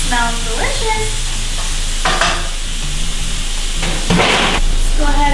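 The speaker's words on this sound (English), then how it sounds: "let's go ahead and cook our shrimp. Medium heat" Shrimp cooking in a pan over medium heat, a loud continuous sizzle with bursts of stirring and scraping, close, with a voice talking intermittently underneath.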